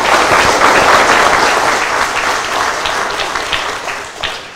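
Applause for General Balba at a Manila police event, a loud, dense round of clapping from a crowd that starts strong and gradually thins and softens.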